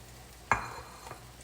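A brief sizzle bursts out as food hits a hot pan, then fades quickly into a soft hiss over a low background hum.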